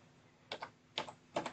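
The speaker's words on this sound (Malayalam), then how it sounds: "അവിടെ നമ്മൾ കമാൻഡ് ടൈപ്പ് ചെയ്ത് കൊടുക്കണം." Three short clusters of computer keyboard keystrokes as a command is typed, each a quick pair of light clicks, spaced evenly apart against a quiet background.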